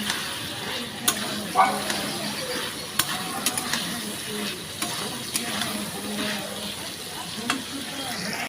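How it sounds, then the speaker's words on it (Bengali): Fried vegetables and spices being stirred in a pan for a Bengali shukto: a continuous soft sizzle with scattered spoon clinks and scrapes against the pan, close and moderately loud. "দিয়ে সবজিগুলো মশলাগুলো ভালোভাবে নাড়াচাড়া করে নেব"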